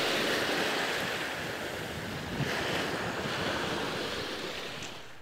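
Continuous rushing surf with gusty wind, a broad roar that swells and slowly recedes, with no voices.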